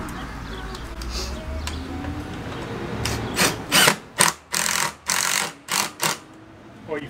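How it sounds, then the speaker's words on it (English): A DeWalt 12V impact driver driving screws, several loud close bursts of rapid hammering in the second half after a quieter stretch of background noise. "Not any difference putting screws in."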